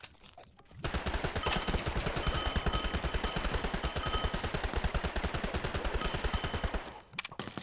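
A machine gun in the Minecraft modpack Nightmare Craft fires a long, fast, evenly spaced stream of shots, loud and close, starting abruptly after a quiet moment and cutting off near the end.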